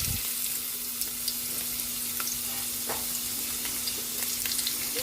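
Ginger frying in hot oil, a continuous close sizzle with faint crackles and occasional light stirring taps throughout, with a low steady hum underneath.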